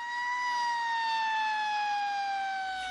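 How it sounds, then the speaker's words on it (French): A fire truck siren holds a steady, loud electronic wail with a slowly falling pitch, heard alone and continuous, with no voices. "il est possible d'entendre la sirène d'un camion de pompiers"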